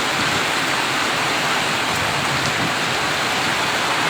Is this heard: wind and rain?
yes